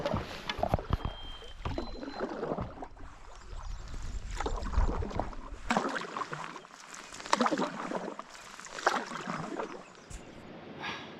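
A solo paddler drives a canoe across Canadian water, with steady, soft strokes and splashes repeating in a loose rhythm, close to the listener and without talk.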